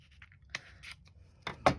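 A few crisp snips of scissors cutting, close by, with small scrapes in between and two sharp closing clicks near the end.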